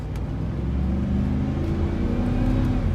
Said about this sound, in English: I'm gonna go through the gears real quick